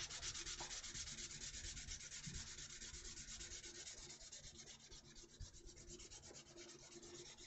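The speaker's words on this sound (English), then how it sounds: "A little bit more loving from the sanding block." A sanding block rubs back and forth on a hard model surface, a close, continuous raspy scraping with an even rhythm and no voices.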